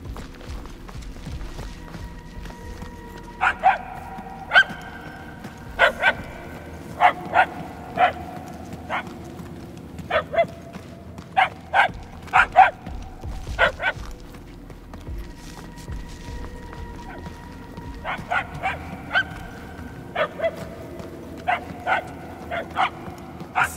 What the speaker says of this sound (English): The barks are getting louder, at least.